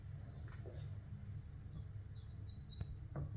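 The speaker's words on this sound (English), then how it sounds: "Can you guys hear the birds outside?" Birds singing outside, faint high chirps and short warbling phrases heard at a distance over a low steady indoor hum.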